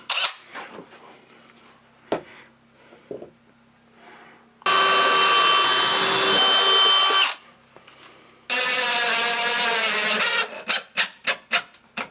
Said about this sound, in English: I'm going to pre-drill some holes in here and just put about 5 of these screws in.